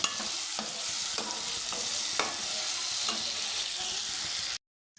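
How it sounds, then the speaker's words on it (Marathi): Tomatoes sautéing in a hot pan for potato curry, steady sizzling with occasional stirring scrapes, close and continuous, then cutting to silence near the end. "टोमॅटो मऊ होईपर्यंत याला आता परतून घ्यायचं आहे"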